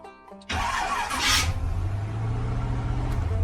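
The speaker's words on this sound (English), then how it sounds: "So what that noise is the starter's still engaged once the motor's running." A car engine cranks and catches at about half a second, then runs loud and steady with a high whine from the starter still engaged after the motor is running, heard close up with no talk.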